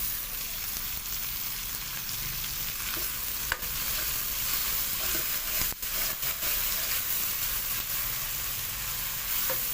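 Garlic-ginger paste, green chillies and tomato sizzling steadily in a pan for dhaba-style turai sabzi, with a few sharp clicks of a spoon stirring, close and continuous with no talk.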